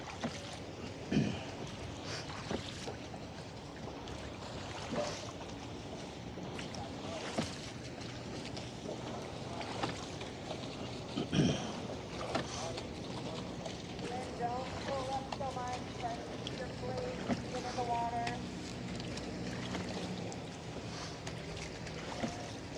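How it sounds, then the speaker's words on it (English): Oars knock and splash in a steady rowing rhythm while water laps around a small rowing boat on the Oakland Estuary, with breezy outdoor ambience. "All of us guys rowing backwards can't see where we're going."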